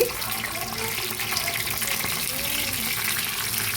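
Pui (Malabar spinach) leaf fritters frying in a pan of hot oil give a loud, steady, close-up sizzle and bubbling hiss throughout, with a faint voice beneath it.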